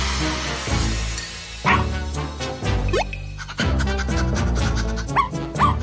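A few cartoon dog barks ring out over bouncy, upbeat cartoon-style music.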